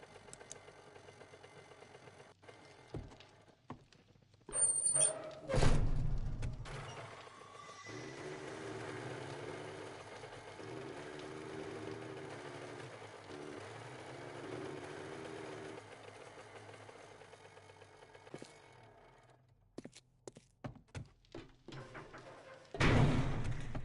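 A minibike engine in 7 Days to Die starts with a couple of sharp knocks, then runs at a steady buzzing idle for several seconds before rattling bursts and a final thump.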